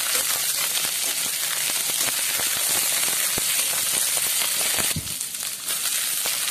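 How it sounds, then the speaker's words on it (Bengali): Carrot and cauliflower pieces frying in a pan give a steady close sizzle with dense crackling throughout, briefly dipping and shifting near the end. "ফুলকপির টুকরোগুলো দিয়ে আরও 1 মিনিট ভেজে নেব।"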